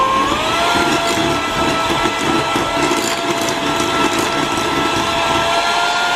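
An electric hand mixer whips 100 grams of soft butter with sugar in a bowl for banana bread, giving a steady, loud, continuous whirring drone with a constant pitch and no pauses.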